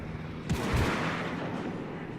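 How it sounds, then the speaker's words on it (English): Cruiser guns fire at a ship in the World of Warships naval combat game, a heavy booming salvo landing near the listener's ship, followed by a sustained rumbling roar that slowly fades. "I've got a cruiser firing at me"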